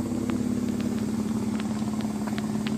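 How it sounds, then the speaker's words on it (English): A 2000 Eclipse car engine idling steadily nearby, a constant low hum with a loud continuous drone and a few faint higher ticks, no talk. "Motor sounds good. A little exhaust work down the road wouldn't hurt, but it sounds cool."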